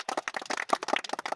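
An audience at a village banana-trunk walking challenge claps for prize winners, a short burst of rhythmic, moderately loud hand claps from a small crowd.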